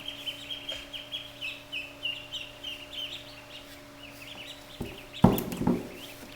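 Soft quacking and clucking from a group of seven ducks nearby, with a low steady hum underneath and a louder clatter near the end.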